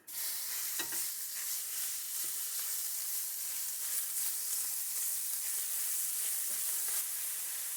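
Grapeseed oil sizzles and crackles steadily in a hot pan, a loud continuous frying hiss with a few soft stirring knocks, no voices.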